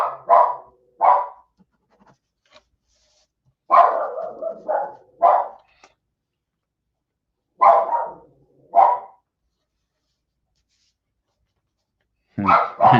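A dog barks indoors at a noise outside, loud close bursts in clusters of two or three with quiet gaps between, some barks rising into sharper yips.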